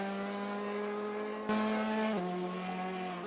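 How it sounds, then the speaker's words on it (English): A Ferrari GT2 race car on its out lap at Mugello, its engine holding a steady, strong tone that steps up sharply partway through, then drops slightly and keeps running without a break. "We're going on board with Omar Barbara, who's on his outlap with the Ferrari GT2"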